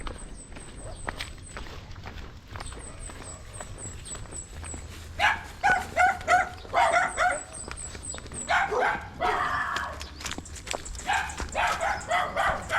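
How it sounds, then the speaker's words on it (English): Dog barking outdoors near a poultry and piggery farm by a river, a run of loud, close barks in bursts through the second half, with footsteps and rustling beneath and high beeping tones earlier. "The dog is going to bite us."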